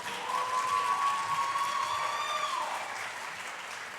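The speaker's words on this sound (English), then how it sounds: "Please give them another round of applause" A school pageant audience claps and cheers for a dance academy's performance, a sustained wash of applause heard from the hall with a held whistle-like tone over it, easing slightly toward the end.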